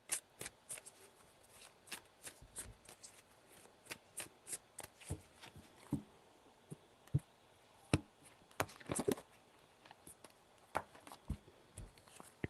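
Tarot cards handled and shuffled quietly, a steady run of faint clicks and small taps scattered through, close but low in level.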